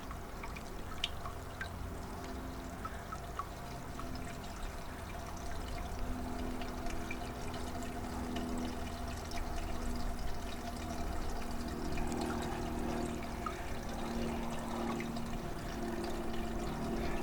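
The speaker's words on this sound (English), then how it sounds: "See the water coming up through the middle of the dirt." Water flowing through a Sluice Goose gold recovery sluice, washing dirt and quartz as it wells up through the middle; a steady continuous trickling and pouring with small drips, moderately quiet throughout with no talk.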